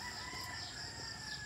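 A rooster crows in a rural Cebu village setting, a faint, distant call under steady outdoor background noise with no talking.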